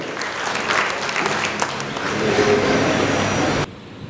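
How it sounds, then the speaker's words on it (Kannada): An audience at an award ceremony in a university hall in Bengaluru claps loudly, a dense wash of applause that stops abruptly. "ಒಂದು ಜೋರ ಚಪ್ಪಾಳೆಯನ್ನು ಕೊಡಬೇಕು ಅಂತೇಳಿ ಕೇಳ್ಕೊಳ್ತೇನೆ"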